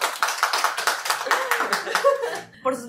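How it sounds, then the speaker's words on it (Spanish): Several people clap in a brisk, uneven burst with light laughter mixed in, fading out toward the end as a voice starts. "Así que démosle un fuerte aplauso a Jerry"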